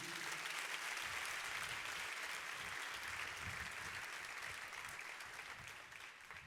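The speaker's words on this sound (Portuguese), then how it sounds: "Você pode aplaudir o Senhor por isso?" A church congregation at an evening service applauds in a dense, sustained burst that slowly thins toward the end, heard from within the room.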